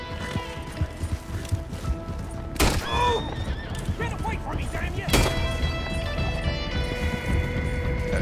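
A horse in the video game Red Dead Redemption 2 whinnies loudly twice amid continuous galloping hoofbeats, with game music and effects layered underneath and a voice talking at times.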